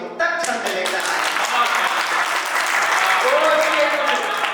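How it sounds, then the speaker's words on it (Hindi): An audience at a Hindi poetry recitation breaks into loud applause, a full crowd clapping steadily for several seconds with some murmuring voices mixed in. "तालियों की गड़गड़ाहट से हमें आदेश दे दो"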